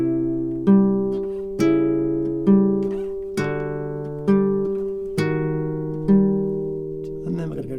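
Acoustic guitar plays a bar of a song with a bouncing bass line, about eight evenly spaced plucked strums ringing clearly over steady low bass notes, close and alone without talk.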